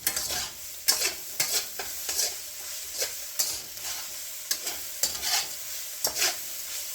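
Fried rice tossed and stirred vigorously in a hot pan, with repeated rhythmic scraping and clattering bursts over a steady sizzle, close and fairly loud, no talking.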